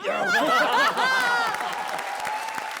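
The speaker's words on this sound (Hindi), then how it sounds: "जोरदार तालियां एक बार फिर चैलेंजर्स वीआईपी और सूरज के लिए" A comedy show studio audience breaks into applause mixed with chuckles and laughter, loud at first and then thinning out over a few seconds.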